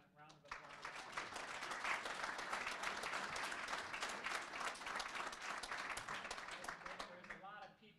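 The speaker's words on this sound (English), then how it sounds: "Can we give Brian a round of applause?" A round of applause closing a dairy farm tour talk, a crowd's clapping that swells quickly and holds steady for about seven seconds before fading, with a voice speaking briefly at the start and the end.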